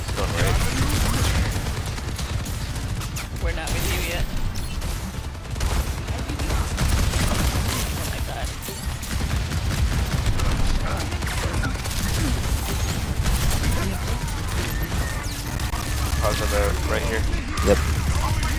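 Sustained Bastion gunfire in Overwatch 2 during a role-queue match, a loud, dense stream of shots and mechanical clatter running the whole time, with players talking over it.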